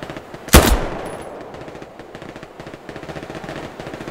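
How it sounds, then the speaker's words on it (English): Machine gun fire in the World War II shooter game Hell Let Loose, a sharp loud shot followed by a steady rattling stream of rapid rounds that carries on throughout, with no voices. "Machine gun on my point."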